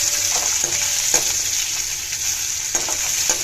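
Onions frying in oil make a loud, dense, constant sizzle up close, with a few soft stirring knocks and no talking.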